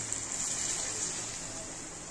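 Half a cup of water goes into a masala gravy in a pan, a soft, steady gushing hiss that stays faint and even for the brief moment.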